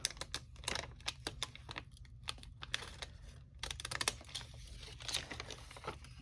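Scissors snip around a paper bag in a quiet room, a quick series of small, close, crisp cuts mixed with faint rustling and crinkling of the paper.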